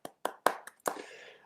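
A few sharp claps from a small group or a single person applauding at home for an award citation, sparse and quiet: roughly five separate strikes over a second and a half, the last one trailing off.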